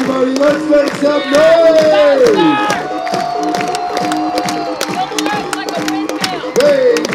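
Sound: show audience cheering, clapping and stomping

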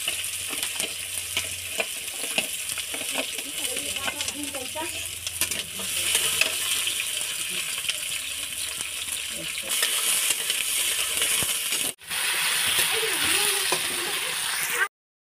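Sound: frying onion and chilli with leftover rice in a pan

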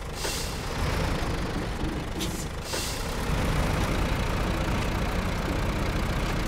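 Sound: tractor engine in video game SnowRunner

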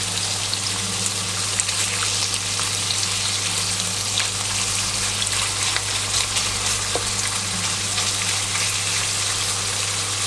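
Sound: stir-frying pork belly in a pan

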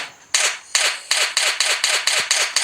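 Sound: gunshots in video game Last Day on Earth: Survival

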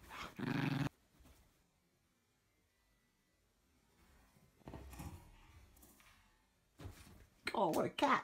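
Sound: dog growling while playing

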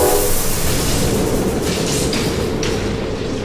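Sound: choo-choo train rolling along tracks in a video game

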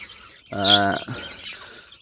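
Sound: budgerigars chirping in a breeding cage

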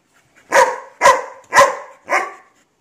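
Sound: dog giving a demanding bark

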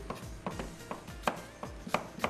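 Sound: chopping apple finely like onion

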